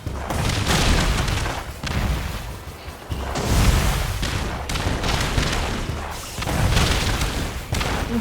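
Cannon fire in the video game Cat Quest 3, several heavy booming shots arriving about every second and a half, each with a long rumbling decay, loud and close with no talk over them.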